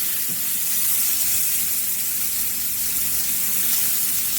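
Salmon fillet frying skin-side down in a pan over moderate heat, a steady, even sizzle with broadband hiss that holds constant throughout, fairly close and alone with no talking.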